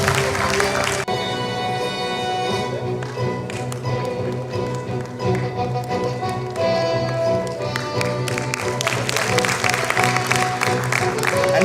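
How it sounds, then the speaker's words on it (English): Audience applause at an anniversary celebration, a loud crowd of many hands clapping close by, with a brief dip early on before the clapping swells again and carries through to the end. "he deserves a louder round of applause."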